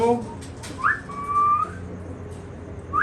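An Alexandrine parrot whistling in a bird setup: a few short, clear whistled notes, some rising and some held, with quiet background noise and faint voices between them.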